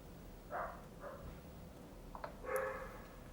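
A dog barks a few times in the distance, three or four faint, separated woofs over a quiet indoor background.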